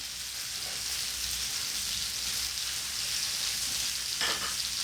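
Bacon and fried bread frying in a pan: a soft, continuous hiss and crackle stays fairly quiet throughout, with one brief louder spatter near the end and no voices.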